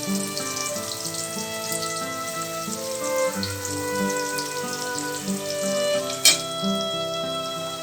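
Onions fry in hot oil for a fish-head ghata, a close, steady crackling sizzle under soft background music, with a brief sharp clatter near the end.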